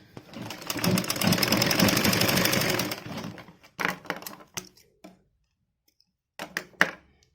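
A sewing machine rattles rapidly as it stitches a doubled fabric strip for about three seconds, followed by short bursts of stitching and clicks with pauses between.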